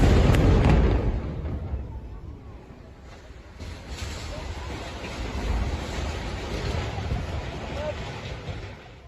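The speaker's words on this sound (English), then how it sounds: "somebody recorded a video of some of the bombing of tents" Recorded bombing of tents in Gaza opens with a heavy, booming blast, then a sustained low rumble and roar with scattered bursts, with voices mixed into the noise.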